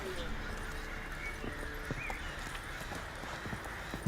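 Horse hooves clip-clop at an irregular pace in The Witcher 3 video game, moderately close over a soft outdoor ambience.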